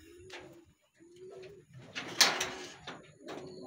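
Pigeons coo close by in a series of soft, rounded, repeated calls with short pauses, mixed with some rustling and wing movement.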